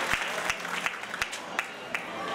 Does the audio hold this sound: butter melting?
no